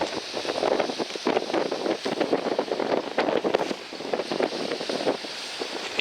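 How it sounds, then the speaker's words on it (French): Wind gusts across the microphone by the sea in Brittany, a continuous buffeting rush with surging waves of noise and no voices. "désolé s'il y a du vent"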